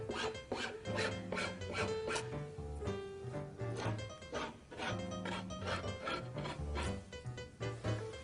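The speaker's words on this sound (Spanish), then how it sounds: "vamos a proceder a refilar el excedente de cada costado" Trimming the excess laminate edge on a particleboard furniture panel, a sequence of short, rhythmic rasping strokes close up, with some tonal scraping squeaks between them and no voices.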